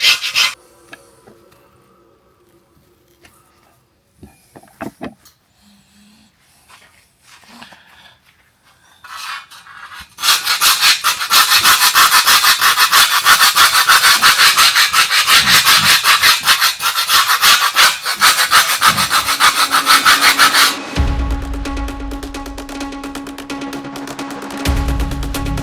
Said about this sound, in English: I can just scrape the rust off initially